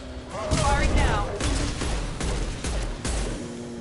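Rapid bursts of weapon fire from the video game Mass Effect 2 rattle and thump through the clip, dense and continuous over game sound, with a voice talking underneath.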